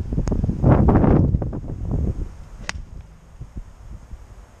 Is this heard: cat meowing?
no